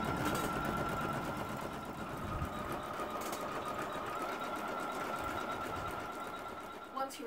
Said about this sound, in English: I like 500 stitches a minute, as it just seems to be a nice smooth stitch. And we're going to stitch out the first colorway.